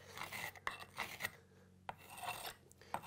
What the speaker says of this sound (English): it's rubbing it nice and tight, pushing that mortar really deep into that joint